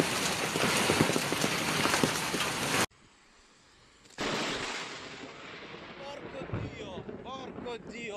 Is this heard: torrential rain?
yes